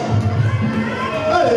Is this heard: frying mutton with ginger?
no